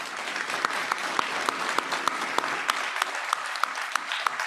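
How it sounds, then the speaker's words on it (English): An audience at an agricultural careers panel event gives the panelists a round of applause, steady clapping with distinct individual claps standing out, continuous for several seconds. "let's give them a big round of applause"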